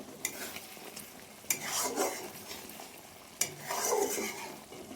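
Young jackfruit pieces go into a pan already holding sour yogurt and poppy seed paste, with repeated scraping stirs and a soft sizzle between three distinct clatters of the spoon against the pan.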